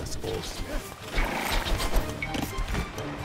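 Cavalry horse in Age of Empires II: Definitive Edition, a whinny and clip-clopping hooves amid game sounds, with a voice speaking over it.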